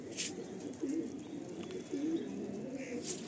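A male Madrasi tournament pigeon gives two or three soft, rolling coos close by, each a short wavering phrase over a steady low room hum.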